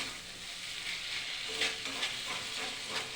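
Aloo dum, a spicy potato curry with onion, garlic and tomato, sizzling in a pan of ghee and oil, giving a steady close hiss with faint stirring scrapes and no voices.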